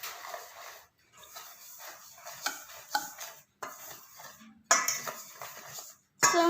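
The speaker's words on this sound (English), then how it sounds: "Now we're going to mix it until it's combined." Chocolate cake batter with flour and baking soda being mixed in a bowl, a close run of scraping, stirring strokes and light clinks against the bowl in bursts, broken by several short pauses.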